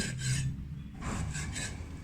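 Rasping strokes of a knife slicing pork thinly on a cutting board, a couple of bursts of scraping and slicing, close up with no talking.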